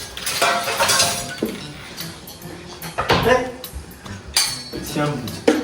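Metal ladles and spoons clink and clatter in a home kitchen during a bachelor biryani cook, with several sharp bright hits in uneven bursts mixed among excited voices talking.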